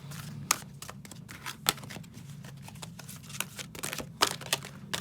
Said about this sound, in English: I'm having a hard time shuffling these.